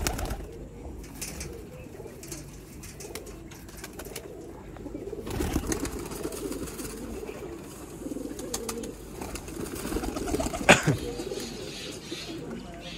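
Soft, low pigeon coos repeat in the background amid a steady outdoor hum, with a brief sharp click near the end.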